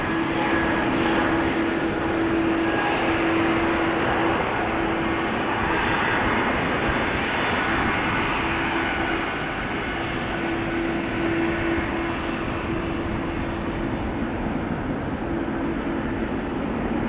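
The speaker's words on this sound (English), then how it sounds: "KLM Malta is spooling up, taking off to Malta" KLM Airbus A320neo jet spooling up and taking off at Amsterdam Schiphol Airport, a loud continuous engine roar with a steady whine held for the whole stretch, no voices.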